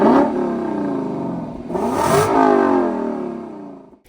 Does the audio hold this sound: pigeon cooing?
no